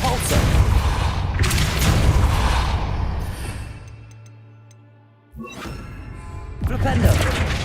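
Depulso spell impact in the video game Hogwarts Legacy: a loud booming, crashing blast with shattering debris and whooshing, then a lull with a ringing tone before another heavy burst.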